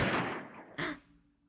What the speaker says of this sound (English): The gunshot echoed with the sunset in the backdrop